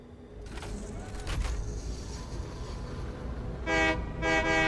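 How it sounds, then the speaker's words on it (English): A train in the video game Satisfactory rumbles steadily at moderate distance, then sounds two loud horn blasts near the end, with no talk over it. "Someone having fun with the train."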